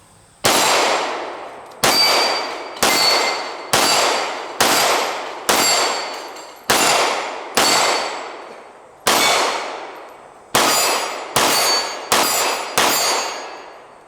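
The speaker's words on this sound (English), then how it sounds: "We were able to hit steel really at any distance. 10 yards down there, we got our steel plates." Pistol rounds from a Smith & Wesson M&P 2.0 Compact striking steel target plates 10 yards away, a dozen loud ringing clangs in a slow, deliberate rhythm, each ring decaying before the next.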